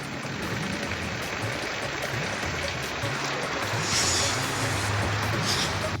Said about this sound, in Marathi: रिसोडमध्ये मुसळधार पाऊस कोसळतो